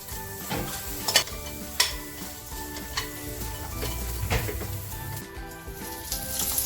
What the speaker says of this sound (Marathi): आता हा कांदा छान परतवून घ्यायचा आहे